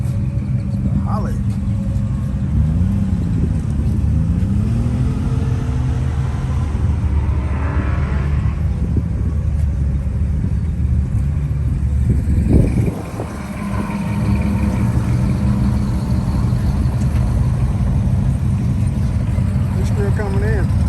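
Car engines rumble steadily at an outdoor cruise-in car show in Midwest City, Oklahoma, one with a big engine in a small car, a low continuous drone that swells and fades as vehicles roll in, with voices talking nearby.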